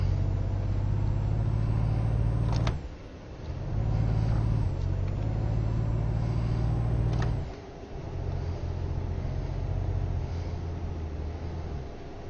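A Volvo truck in a driving game hauling a 75-tonne load uphill, its engine a deep, loud continuous drone that drops out twice briefly before resuming its steady labouring note.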